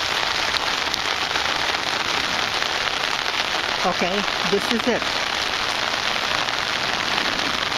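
Heavy rain pours onto a backyard pool in Phoenix, a dense continuous hiss of drops pattering the surface, with a brief voice speaking over it partway through.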